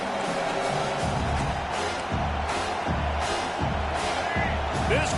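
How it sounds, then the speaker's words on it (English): A large stadium crowd roars steadily in the distance, a dense wash of cheering and noise with a broadcast voice talking over it. "This crowd bringing the energy and noise early."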